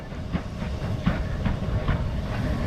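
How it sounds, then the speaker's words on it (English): A small heritage steam locomotive moves about Tenterden station on the Kent & East Sussex Railway, giving a steady hiss with rhythmic chuffing pulses at a moderate distance. "This fine little loco was dashing about getting ready for the departure of the Pullman service"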